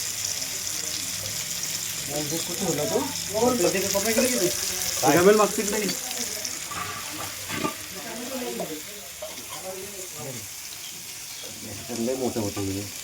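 Mackerel (bangda) fries in a pan during a Konkan seaside trip to Diveagar, giving a steady, even sizzling hiss throughout while someone talks over it.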